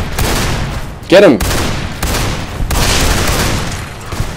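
Shotgun slug rounds firing in Fallout: New Vegas, with one loud blast standing out amid a busy stream of game combat noise, while excited voices shout over the action.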